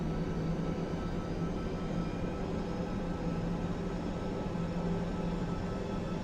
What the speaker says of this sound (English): We're just giving it a bit of power, we're just taxiing off here.